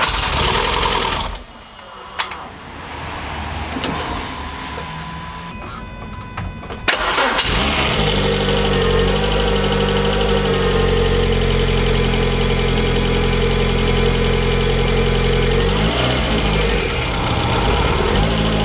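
A built track car's engine cranks over and catches, then settles into a steady, loud idle that runs continuously close by after a few seconds of starter noise.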